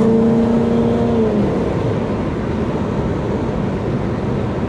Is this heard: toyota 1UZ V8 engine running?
yes